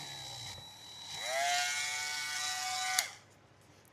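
A small drill bores a hole in a signal tracer probe during an electronics kit build, its whine spinning up and holding steady for about two seconds before cutting off with a click.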